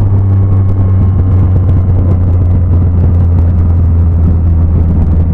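Cars speeding past on a Curitiba road, a loud continuous rumble of passing traffic with a steady low engine hum and no talk.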